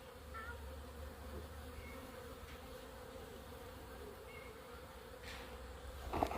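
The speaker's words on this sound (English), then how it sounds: "excited to have bees back on the farm" A low, steady drone of many honeybees buzzing around hives on a farm, continuous and moderately loud, with occasional individual bees passing nearer.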